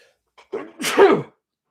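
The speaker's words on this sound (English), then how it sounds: "I'm going to sneeze." A single loud sneeze, close by, with a short breathy wind-up followed by the sharp explosive burst, then quiet.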